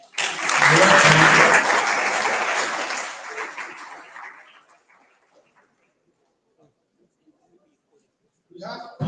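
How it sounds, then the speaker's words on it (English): An audience at a school recognition ceremony claps for St. Teresa's Girls Grammar School in a loud burst that swells, then tapers off over about four seconds into quiet before a voice starts speaking. "Clap for them."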